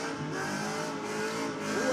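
A car performing a burnout at a midweek burnout event, its engine roaring at high revs with screeching tire skid, a dense continuous blast that holds steady and swells slightly at the end.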